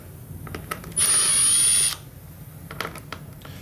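Power driver whirring for about a second as it backs a Torx screw out of a plastic center console plate, with faint clicks and handling noises before and after.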